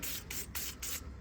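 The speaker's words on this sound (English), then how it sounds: "let's go ahead and spray some stuff on there so you can see this thing in action from this angle" PB Blaster penetrating lubricant sprayed onto a door window cable inside a VW Beetle door, heard as close, steady hissing bursts in three or four rhythmic pulses with brief gaps between them.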